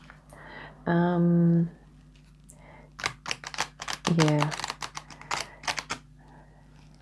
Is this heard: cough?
no